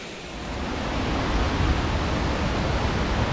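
Aanachadikuthu waterfall near Thodupuzha pours over rocks with a dense, steady roar. The rushing water sounds close and constant, with no voices.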